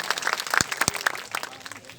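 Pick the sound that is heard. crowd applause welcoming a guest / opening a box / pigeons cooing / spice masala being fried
crowd applause welcoming a guest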